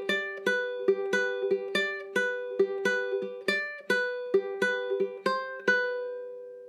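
Ukulele with two strings plucked together, playing a riff: about sixteen bright, evenly spaced plucks that ring briefly before decaying, close and clear with no voices.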